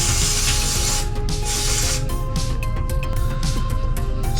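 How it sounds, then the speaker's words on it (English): Cleaner sprays onto a Holley carburetor in a steady, loud hiss with short breaks and bursts, close up and without talk. "Go ahead and give this a quick spray off."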